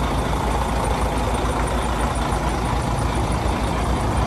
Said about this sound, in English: we're doing a quick video of 1434, a 2012 Columbia glider with Mercedes engine